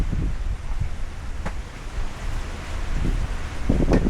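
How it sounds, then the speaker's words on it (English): Gusty wind buffets the microphone outdoors, a steady rough rumble with a few brief knocks and rustles. "it's pretty windy right now"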